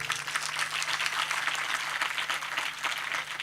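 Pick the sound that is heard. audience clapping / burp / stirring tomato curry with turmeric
audience clapping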